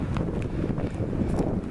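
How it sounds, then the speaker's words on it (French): Steady wind roars and buffets the microphone at a gusty outdoor spot near an old building, a continuous low rumble with no voices. "C'est assez venteux ici."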